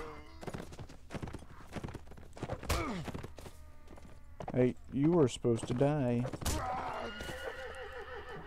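Horses in the Mount & Blade: Warband video game whinny repeatedly and clop past in a battle, loud and close, while someone talks over the game sounds.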